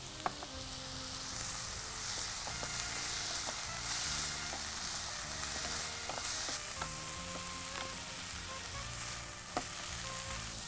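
A paste of onion and green chili sautés in a pan with a soft, continuous sizzle, broken by scattered clinks and scrapes of stirring throughout.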